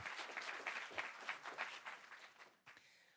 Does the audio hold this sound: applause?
yes